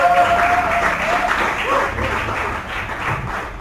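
A church congregation applauds during a sermon, a loud, close burst of clapping from many people that runs a few seconds and eases off slightly near the end.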